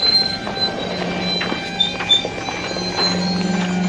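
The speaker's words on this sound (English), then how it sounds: "But do you like the screeching sound of the brakes?" Subway train brakes screech in thin, high squeals over a steady rumble of the car, several sharp peaks close by.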